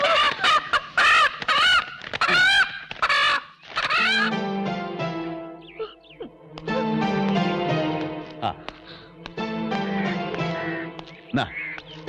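Chickens cluck and squawk in a busy, overlapping flurry, close by, with people talking over and between the birdcalls.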